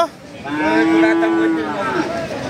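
A heifer calf at a cattle market gives one long, loud, drawn-out moo that rises and falls, close by and heard alone.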